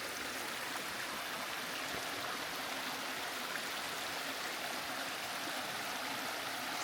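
A small stream at a hiking-trail water crossing in Blackwater Falls State Park, amid moss and ferns, rushes in a steady, close, even wash of flowing water with no voices.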